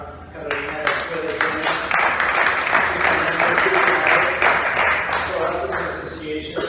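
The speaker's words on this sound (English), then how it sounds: "So we want to give her an applause for Lara Carolina." Audience applauding at an association lunch, a dense sustained wash of many hands clapping at close range, steady for several seconds before tapering slightly at the end.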